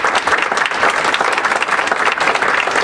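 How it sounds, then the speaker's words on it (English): Loud, dense applause fills the room for panelists and participants after a public dialogue on school funding, continuous and even from start to finish. "Please join me in a round of applause for our panelists and participants"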